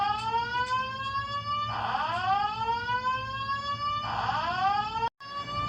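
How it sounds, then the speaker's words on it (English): A building fire alarm sounds near midnight, a loud repeating electronic whoop of rising sweeps with a steady tone beneath, running almost continuously before a brief cutoff near the end. "they were going to be investigating an alarm being set off on the 5th floor"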